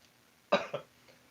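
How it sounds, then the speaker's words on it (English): A short double cough, fairly close, from someone eating a homemade pizza with chili and jalapenos, two quick bursts with the second weaker, set against a quiet background. "if I'm coughing it's because I'm eating chili and jalapenos with this pizza that I made"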